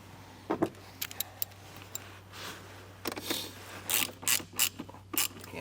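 Ratchet snugging down a fastener while installing a Curt T-connector trailer wiring harness on a vehicle, a run of faint, quick clicking strokes in short bursts.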